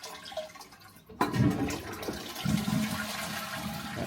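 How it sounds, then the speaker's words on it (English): A toilet flushes in a UK bathroom during a basin tap change: a sudden loud rush of water surges up after a quieter opening second, then settles into a sustained churning drain and refill, nearby and alone without talk. "Let's flush the toilet because that's lower."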